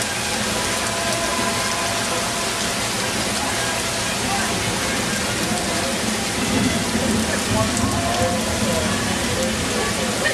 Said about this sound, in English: it's raining down.